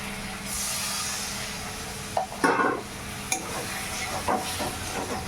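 A small splash of water goes into a wok of sizzling curd and pointed gourd curry, bringing a few sharp hissing bursts over a constant close frying sizzle and light stirring.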